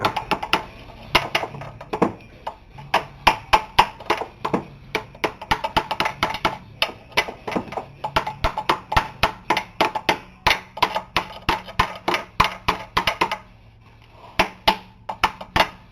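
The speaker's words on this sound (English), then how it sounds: "Just a little hammer to tap it with to get it started." A small hammer taps a metal part again and again while a subframe is replaced on a 1993 Buick LeSabre Limited, sharp close strikes in irregular bursts, sometimes quick runs, sometimes short pauses.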